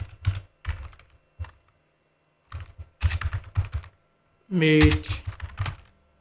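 Bursts of typing on a computer keyboard, clusters of quick close key clicks separated by pauses, with a short spoken word near the end.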